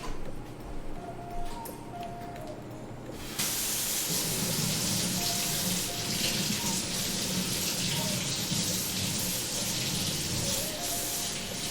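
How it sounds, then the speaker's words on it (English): Kitchen tap running steadily as a bread knife is rinsed under the water, a constant hissing splash that starts abruptly after a few seconds of quieter room sound with faint clinks, heard close by. "Let me rinse and dry my bread knife."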